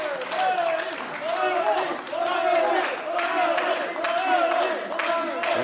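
Boxing crowd chanting Dorticos's name after a fight, a rhythmic repeated chant in regular pulses with cheering and clapping, loud and sustained throughout.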